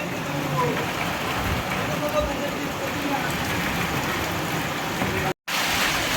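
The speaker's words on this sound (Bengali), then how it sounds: "আর বাইরে হচ্ছে প্রচন্ড জোরে বৃষ্টি" Heavy rain pours steadily outside as a dense, continuous wash of noise, with a brief dropout near the end.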